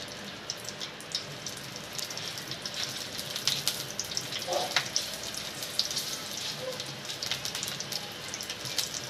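Ten green chillies sizzle in hot oil in a pan, a steady, fairly soft crackling hiss with scattered pops throughout, no voices over it.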